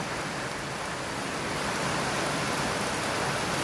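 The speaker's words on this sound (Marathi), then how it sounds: "फार पाऊस येतो" Steady heavy rain pours down in a dense, unbroken hiss with no voices, constant and enveloping.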